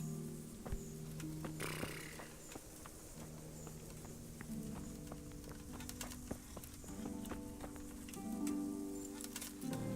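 A horse in the medieval video game Kingdom Come Deliverance whinnies and snorts while hooves patter and clip-clop beneath a sustained musical tone, steady and fairly close.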